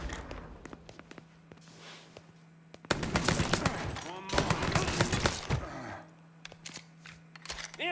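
Bursts of automatic gunfire from the video game Mafia 3, loud and close in rapid volleys over about three seconds, with quieter single shots before and after and no talk.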